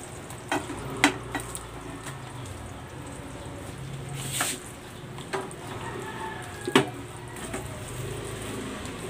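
Glutinous rice being stirred in a pan for malagkit rolls with latik, giving a soft continuous scraping and sizzling texture with a few sharper utensil knocks, moderately close and with no talking.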